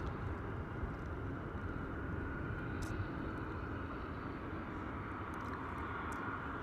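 A Buzz Air jet airliner takes off from London Luton and climbs, its engines producing a steady, broad roaring rumble that stays constant in level throughout, distant and without speech.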